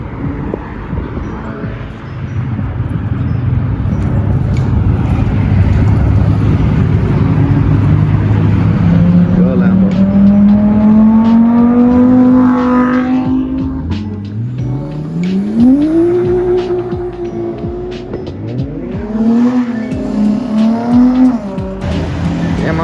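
At a cars and coffee meet, a car pulls out and revs hard, its engine rising and falling through several loud, close climbs in pitch, with a brief tire chirp and crowd noise underneath.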